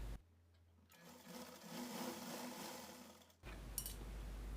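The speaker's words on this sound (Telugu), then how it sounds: "ఎల్ షేప్లో పెట్టి పై కార్నర్ నుంచి కింద కార్నర్కి స్టిచ్ చేయాలి" A sewing machine stitches a blouse lining, running steadily for about two and a half seconds between quiet pauses, with a faint click near the end.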